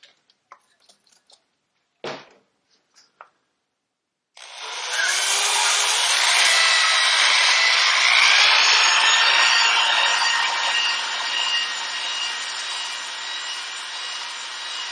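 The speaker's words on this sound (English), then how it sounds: "we're going to use a dingle ball hone on it and smooth it out a little bit on the inside" A dingle ball hone works inside the swingarm axle hole of a 1974 Harley XLCH, giving a steady, loud abrasive whirring after a few faint knocks and a brief silence.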